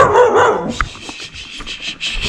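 Dogs bark and yip close by in a home, a loud bark up front followed by softer whimpering and scuffling.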